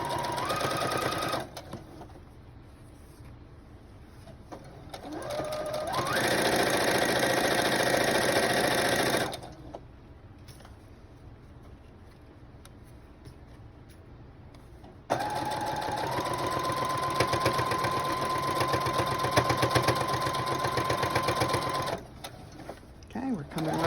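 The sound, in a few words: sewing machine stitching a seam on a book bag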